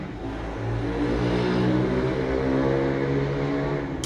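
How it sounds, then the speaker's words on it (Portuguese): A motorcycle engine drones past on a busy street, a close, loud, sustained rumbling hum that swells slightly and holds for several seconds. "Barulho de moto."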